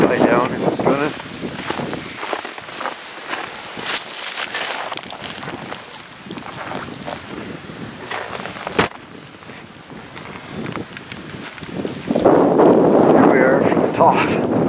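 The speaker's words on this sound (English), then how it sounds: "wait an hour or so for this wind to die down if it's going to" Strong wind during a heavy snowstorm buffets the microphone in steady broadband rushing, growing louder and harsher near the end. Faint shuffling footsteps can be heard beneath it.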